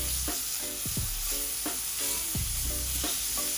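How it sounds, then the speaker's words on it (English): Butter sizzles loudly in a pot for dressed-up instant noodles, a dense, close hiss broken by rhythmic scraping strokes of a stirring utensil. "let's add some butter to the pot"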